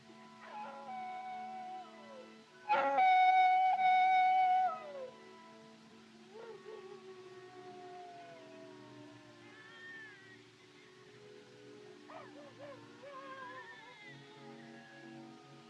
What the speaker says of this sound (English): Them coyotes give me the creeps. It sounds, well, it sounds just like a baby.